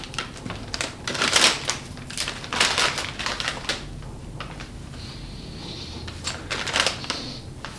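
Scissors cut open a bag of chips, giving sharp crinkling and crackling bursts of plastic with a few snipping clicks, close and fairly loud, with no talk.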